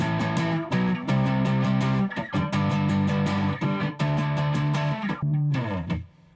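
An electric guitar, a Squier Paranormal Stratosonic, plays chords and riffs through a warm Tube Screamer overdrive, thick and crunchy, ending with a fading sustained note.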